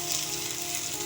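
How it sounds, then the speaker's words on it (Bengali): Giant freshwater prawns fry in hot oil in a pan, giving a brief, steady bright sizzle with no voices. "মাছ ভাজি হয়ে গেছে"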